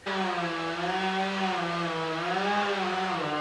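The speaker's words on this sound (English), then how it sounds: "The Chainsaw Massacre happening across the street might be on lunch break because they have stopped" A chainsaw drones steadily at a distance across the street, its engine pitch wavering slightly up and down, faint and continuous with no voices.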